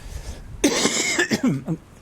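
A few harsh, throaty coughs close to the microphone, coming in quick succession after a quiet moment.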